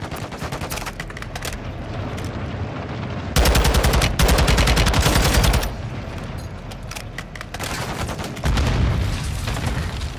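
Dense gunfire in Call of Duty: Modern Warfare 2, with rapid automatic bursts that swell into loud, heavy volleys around the middle and again near the end, continuous throughout with no talk.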